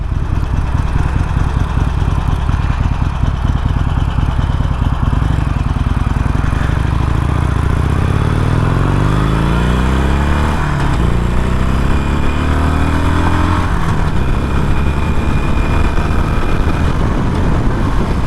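Harley-Davidson Sportster Iron 883 being ridden on a frontage road, its engine loud and close with a throbbing idle-like rumble, then rising and falling pitch sweeps as the rider shifts through gears, wind noise underneath throughout.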